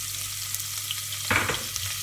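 Green chillies and chopped garlic go into hot oil for a Rajasthani panchmel dal, giving a sudden close sizzle that bursts up and then settles into a steady frying hiss.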